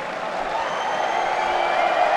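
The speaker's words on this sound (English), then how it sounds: "Give the kid a round of applause." A crowd applauds steadily at an IEM Sydney 2023 Counter-Strike semi-final on Vertigo, a dense even wash of clapping and cheering that holds level throughout.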